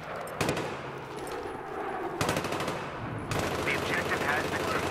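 Machine-gun fire in Battlefield 3 comes in loud rapid bursts, one short burst near the start, another around the middle and a longer stretch at the end, with faint voices underneath.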